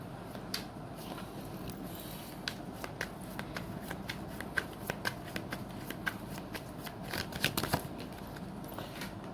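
A deck of tarot cards is shuffled by hand at close range, with repeated papery riffles and flicking card slaps across several seconds.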